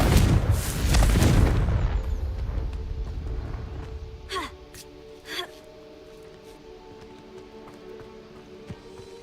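A Confringo fire spell explodes in the video game Hogwarts Legacy, a loud broadband blast in the opening two seconds that decays into quieter game ambience with a couple of brief softer bursts afterward.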